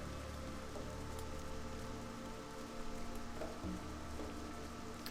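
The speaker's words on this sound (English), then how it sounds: "Let the rains begin." Steady rain falls and patters across the ground in World of Warcraft Classic, an even wash that runs for about five seconds with no speech.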